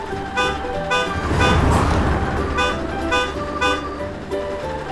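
Toy red tractor and red bus in a children's app, a rumbling engine with repeated bright horn toots in a bouncy rhythm, loud and close.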